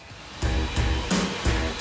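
A Henry Numatic vacuum cleaner runs inside a vacuum testing facility, its motor whirring steadily with four louder surging bursts as the nozzle works over a test carpet.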